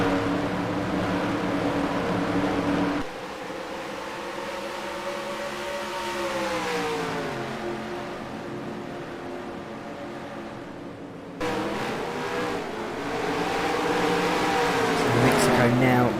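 Race car engines from NASCAR Racing 2003 drone loudly and steadily, the pitch sliding up and down as cars shift and pass, with an abrupt change in engine tone partway through; a commentator talks over them throughout.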